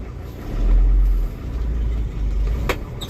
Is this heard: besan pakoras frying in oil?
no